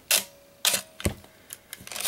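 A Canon AE-1 Program film camera fires its shutter at slow speeds, giving a series of sharp mechanical clicks and clacks close up, some spaced apart by short open-shutter pauses, with a faint hum between them.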